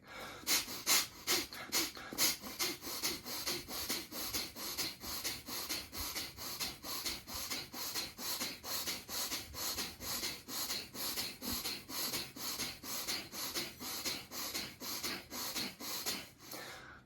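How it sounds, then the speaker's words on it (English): Forceful, rapid exhalations in a tantra breathing exercise come as a steady, loud, close train of sharp breaths pushed through the nose and mouth, about one per second, going on for most of the time without speech. "I wasn't actively breathing in, all I was doing was breathing out."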